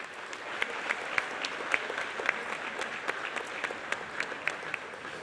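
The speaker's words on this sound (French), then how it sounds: "Applaudissements." Steady applause from a crowd at an inauguration ceremony for an aquatic centre in Saint-Malo, moderate and even throughout with a few sharper individual claps standing out.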